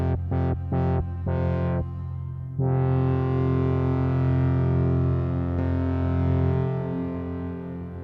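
A sustained tone runs through a Sonicware Texture Lab granular effect while its filter cutoff is automated, first pulsing in four quick dips, then opening into a steady, thick drone that slowly fades.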